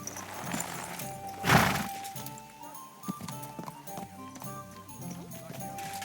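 Horse hooves clip-clop in the medieval video game Kingdom Come Deliverance 2, a moderate, steady gait with a brief loud clash near the start and game ambience around it.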